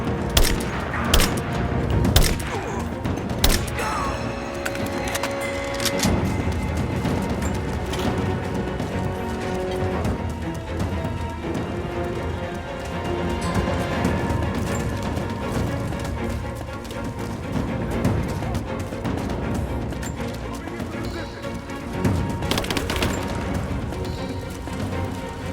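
Scattered gunfire and booming impacts in Rise of the Tomb Raider ring out amid a busy combat soundscape, with several sharp shots early on and sporadic cracks later over a steady rumbling background.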